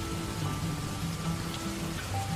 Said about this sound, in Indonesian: Hujan pun turun dengan perlahan.